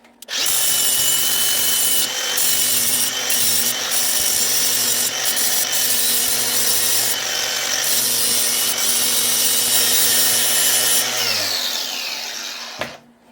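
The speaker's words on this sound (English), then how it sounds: "let me hit this with the sander real quick, get a nice clean edge on this surface rust" Power sander grinding surface rust off snowmobile metal, a loud steady abrasive whine running continuously for about twelve seconds before spinning down at the end, with no talking.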